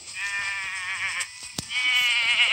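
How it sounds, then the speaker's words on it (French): A goat in Minecraft gives a long wavering bleat, loud and close, followed by a second bleat after a brief click. "Voilà la dernière chèvre."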